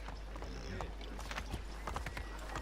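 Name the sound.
horse hooves and neigh in Assassin's Creed video game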